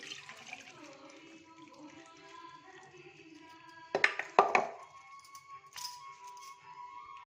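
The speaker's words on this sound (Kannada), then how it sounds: "ಇದನ್ನು ಮೊದಲು ಸೋರು ಹಾಕ್ಬಿಡ್ತೀನಿ ನೀರೆಲ್ಲ ತೆಗಿತೀನಿ" Water from boiled potatoes is drained off in a home kitchen, with a brief splashing pour and clatter of the pot, then a short trickle, following quiet low background noise without speech.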